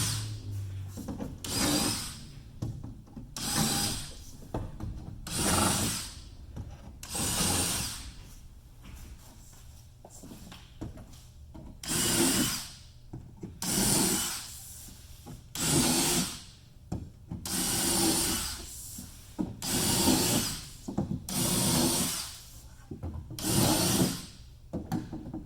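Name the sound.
countersinking screw holes in wood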